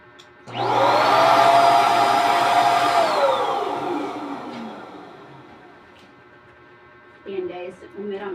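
An electric balloon pump machine runs loudly at a party decorating setup, a steady motor whine that rises in pitch, holds for a few seconds, then winds down and fades, followed by brief voices near the end.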